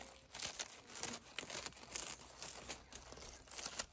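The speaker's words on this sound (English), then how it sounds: "I'm going to cut some of these stems off." Swiss chard stems are cut off a gathered handful of garden plants, producing faint, close crinkling and tearing snaps in quick irregular bursts with no talking.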